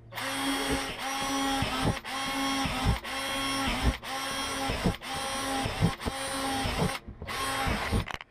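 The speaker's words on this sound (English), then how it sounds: "we're going to start by drilling holes in the bottom of the 2 trays" Power drill boring evenly spaced holes through the bottoms of two plastic worm farm trays, a steady loud whine in repeated bursts of about a second each, briefly stopping between holes.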